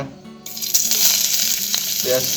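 Onions frying in a little oil in a wok, a close, steady sizzle that swells as they are stirred, with faint utensil scrapes.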